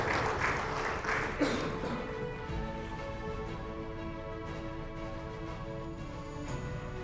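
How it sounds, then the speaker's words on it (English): Applause rises from the audience at a real estate company's awards celebration in a hotel as an engineer is called to the stage, loud at first and then thinning out into a softer, ongoing patter. "Let's give this gentleman a big round of applause as well."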